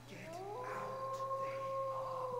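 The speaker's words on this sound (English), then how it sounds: "That was just a dog howling." A long, mournful dog howl from the horror puzzle game Shivers, rising and then holding a steady wavering pitch for about two seconds over a low constant hum, fairly quiet.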